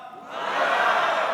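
A church congregation shouts together in one loud, sustained roar of voices that swells and holds for a moment, filling the worship hall.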